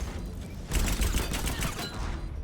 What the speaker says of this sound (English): If we just keep shooting it.